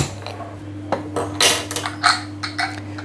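A lid is set onto a cooking pot of jackfruit biryani in a home kitchen, giving a few light metallic clinks and a brief clatter over a steady low hum, fairly close and not loud.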